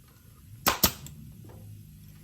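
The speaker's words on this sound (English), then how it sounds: "I can get my first staple set down on the front side here" Staple gun driving staples into a seat cover during a seat foam and cover change, two sharp close snaps in quick succession with a faint third click after, otherwise quiet.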